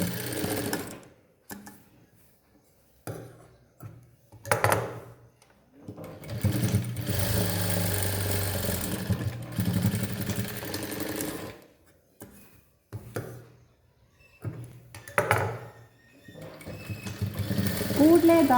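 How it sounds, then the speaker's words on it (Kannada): A sewing machine double-stitches a blouse in several separate bursts of whirring, each lasting a few seconds, with quiet gaps between them and a person talking in places. "ಡಬಲ್ ಸ್ಟಿಚ್ ಹಾಕ್ಕೊಂತಿದ್ದೀನಿ ಹತ್ತಕ್ಕೆ."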